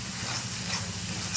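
Spices with red chilli powder sautéing in a pan for a spicy potato and green pea dum curry give a soft, continuous sizzle and hiss with light stirring over a low steady hum.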